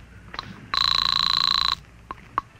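Telephone bell rings in one loud, rapid, trilling burst of about a second as a radio drama sound effect, with faint clicks and handling noises before and after.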